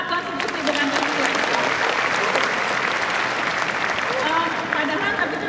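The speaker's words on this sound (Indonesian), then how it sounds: "Tepuk tangan dong, taat konstitusi bukan konstitusi." Dense, sustained applause from a large audience at a Mata Najwa television taping in the UMM Dome, loud and even throughout with no pauses.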